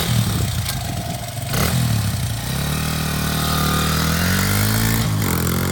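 A 2006 Honda CRF100F youth dirt bike engine runs close by with a loud, raspy putter. Its pitch rises as it revs and then settles back, with brief sharp clatter along the way.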